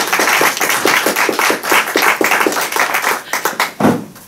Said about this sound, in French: Nous allons l'applaudir bien fort.